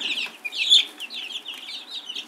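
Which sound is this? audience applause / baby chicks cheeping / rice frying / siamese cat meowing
baby chicks cheeping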